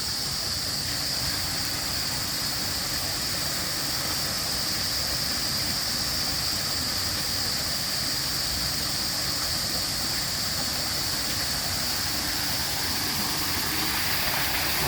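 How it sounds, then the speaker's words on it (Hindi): An artificial waterfall in the Patanjali herbal garden pours in a loud, steady, unbroken rush of falling water, close by and constant throughout with no voices. "ये झरना है।"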